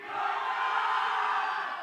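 A crowd at a trailer launch event for Jayeshbhai Jordaar shouts together on cue, a loud sustained mass yell that fills the whole moment without break.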